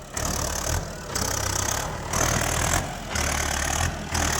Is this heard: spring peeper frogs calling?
no